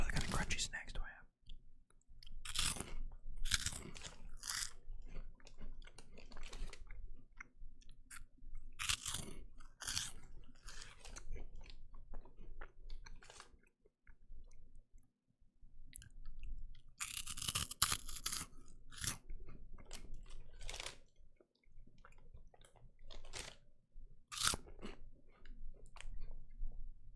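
Someone chews crunchy snacks close to the mic in repeated bursts of loud crisp crunching, separated by quiet gaps, with soft murmured talk now and then.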